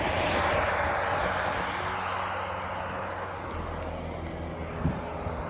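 HBX 2997A RC truck with a 5400 kV XTeam brushless motor on a 4S lipo setup, a steady broad high-pitched whine of the motor running continuously, with a voice speaking over it.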